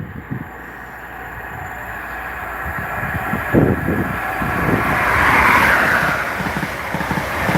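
A fast train passes through Monifieth station with a steady, building rumble and rising whoosh that grows loudest toward the end, with no talk over it.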